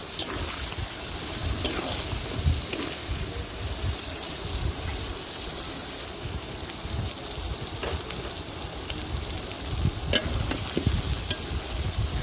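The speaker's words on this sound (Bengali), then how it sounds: "মাংসটা আমার কষানোর এক পর্যায়ে দিয়ে দিলাম জিরা গুঁড়া আর মরিচের গুঁড়া" Meat frying in a pan for bhuna khichuri after cumin and chili powder are added, a continuous crackling sizzle with intermittent stirring scrapes and clicks, moderately close and without talk.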